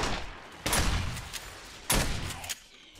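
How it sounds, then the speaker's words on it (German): Gunfire in the survival video game 7 Days to Die, two loud bursts of rapid shots a second apart, close and sharp over a quiet background. "Alter, der schießt auf mich"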